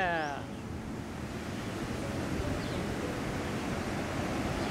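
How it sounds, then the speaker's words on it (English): Large ocean waves break on a tropical beach in Costa Rica's Corcovado National Park, a steady, loud wash of surf roaring continuously without pause, with wind buffeting the microphone. "The waves were actually really big"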